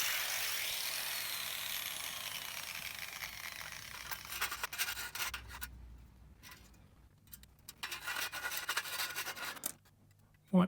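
Electrical trunking being filed by hand after its cut edges were trimmed, giving a run of rough, raspy scraping strokes, steady at first and then in short irregular bursts, fairly close and moderately loud, ending with a sharp knock.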